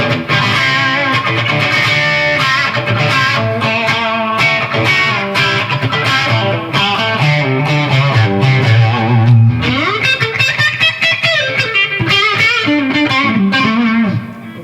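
A distorted electric guitar through a Marshall JVM210 tube amp on the green channel plays continuously with driven, gritty chords and melodic runs, loud and close, with no voices.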